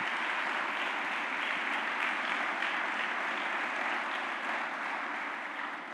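A congregation at a church service breaks into sustained applause, a thick, even roar of many hands clapping that holds steady for several seconds at a moderate distance and fades slightly at the end.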